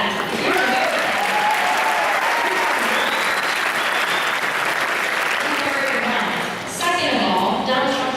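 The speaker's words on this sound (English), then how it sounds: "Clap for that" Loud, sustained audience applause from a crowd at a Turning Point USA political rally speech, steady throughout with cheering voices mixed in, dipping briefly near the end before resuming.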